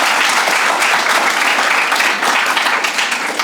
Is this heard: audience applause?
yes